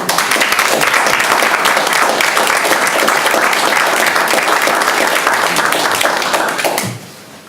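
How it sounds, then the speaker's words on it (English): A city council meeting audience gives a round of applause, loud dense clapping filling the room for nearly seven seconds, then fading out. "But I would like to give these individuals a round of applause."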